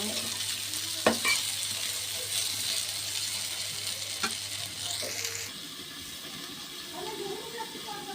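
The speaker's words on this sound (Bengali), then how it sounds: "আলু ভেজে নিচ্ছি আলু ফুলকপি দুটোই আমি ভেজে নেব" Potatoes and cauliflower frying in a pan, a close, steady hiss and sizzle broken by a few sharp clinks of a utensil, which fades to a quieter crackle for the last few seconds.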